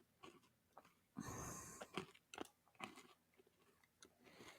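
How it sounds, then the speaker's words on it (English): Cookies being crunched and chewed close to a microphone, a run of irregular crisp bites and munching bursts with short pauses between them and no talking. "listen to me crunch"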